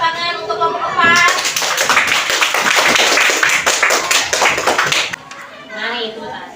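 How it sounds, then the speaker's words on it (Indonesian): A classroom of children claps loudly for a student group for about four seconds, with a few young voices talking before and after. "silakan berikan tepuk tangan untuk kelompok 4"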